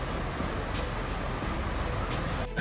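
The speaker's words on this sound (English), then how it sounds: "Raining in Dubai." Steady rain falls in Dubai, a dense even hiss of drops spattering on surfaces nearby, continuing without pause until it cuts off abruptly at the end; no one speaks.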